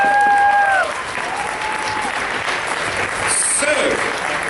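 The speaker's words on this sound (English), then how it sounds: "How about a huge round of applause for all of our amazing cosplayers" Sustained audience applause for costumed cosplayers at a pony fan convention charity auction, a steady dense wash of clapping lasting throughout, with brief whistles and cheers near the start and later.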